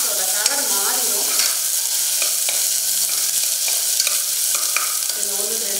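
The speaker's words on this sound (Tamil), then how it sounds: "இஞ்சி பூண்டு பேஸ்ட் போட்டுட்டு எண்ணெயில் வதங்கும் போதே நம்ம இந்த பெரிய வெங்காயத்தை இதில் சேர்த்துருவோம்" Sliced large onions with ginger garlic paste sizzle in hot oil in a pan, a steady close frying hiss broken by scraping stirs from a spatula and no talk over it.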